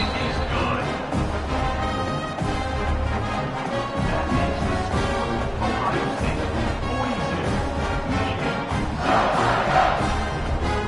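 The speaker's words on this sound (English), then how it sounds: "this crowd is buzzing after that last score" A stadium crowd in a college football video game roars loudly and continuously after a score, a dense, sustained wall of cheering that swells slightly near the end.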